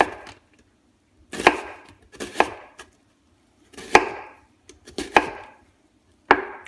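A knife thinly slicing onions on a cutting board: five or six sharp, close chopping strokes in an irregular rhythm, each a crisp thud with a short crunch, separated by quiet pauses and no talking.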